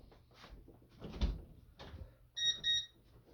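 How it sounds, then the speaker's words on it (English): A front door fitted with an alarm sensor is pushed open with a few soft thumps and rattles, followed by two short electronic chirps from the alarm keypad. "So we're going to prop the front door open."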